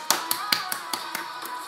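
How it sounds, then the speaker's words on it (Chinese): Rhythmic hand claps in a seal-style clapping motion, about eight sharp evenly spaced taps, close and moderately loud against a faint steady background. "海狮拍手法"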